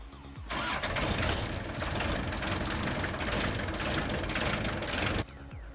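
A tractor diesel engine cranks on a jump starter and fires after about 20 seconds of preheat following three months of winter storage, then runs at a loud, steady, clattering idle close by before the recording cuts off.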